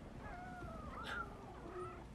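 Several cats meow and caterwaul in a film scene, their wavering cries overlapping and rising against a steady low background rumble, with no voices.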